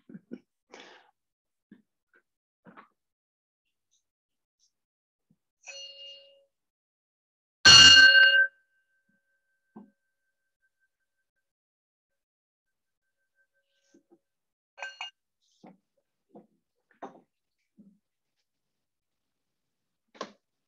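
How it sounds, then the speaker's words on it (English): A singing bowl is struck once during a quiet evening vespers service, giving a single bright, shimmering ring that stands out loudly against near silence, with a few faint small noises scattered around it. "Now let's take a moment of silence with the ringing of our singing bowl."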